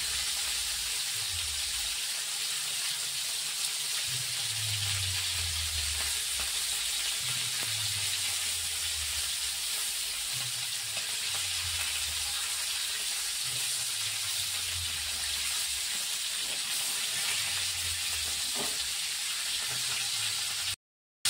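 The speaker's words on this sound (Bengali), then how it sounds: "মাছটা ভাজা হয়ে গেছে।" Shrimp frying in oil gives a steady, even hiss and sizzle that runs unbroken for about twenty seconds at moderate volume, with a soft low rumble underneath.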